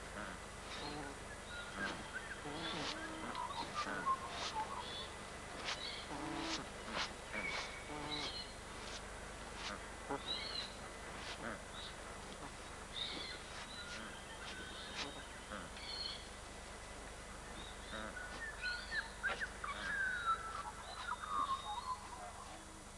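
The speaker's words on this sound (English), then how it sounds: "As they work, the birds call quietly to one another." Mound-building birds trade soft, brief calls while working on their compost incubator mound, a scattered series of quiet honking notes spread across a faint background hum.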